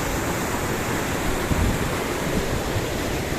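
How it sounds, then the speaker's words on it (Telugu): The fast, high-velocity Lidder river rushes nearby, a dense, continuous roar of flowing water with no breaks and no voices. "ఇది litter LIDDR, high velocity water, very high velocity."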